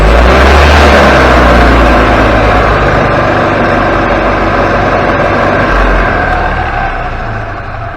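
Golf cart engine revving hard under the throttle, a very loud, rough, continuous roar close by that eases off slightly toward the end.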